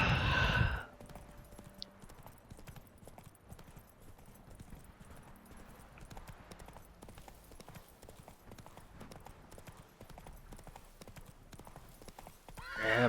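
Roach the horse in the Witcher 3 video game gallops with a steady, fairly quiet clip-clop of hooves, a loud neigh at the start and another at the end.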